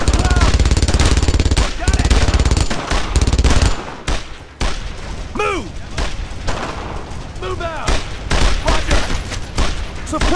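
Suppressing gunfire in the WWII video game Brothers in Arms: Road to Hill 30: loud, dense bursts of rifle and machine-gun fire with booming impacts, pausing briefly midway, while soldiers shout over the battle.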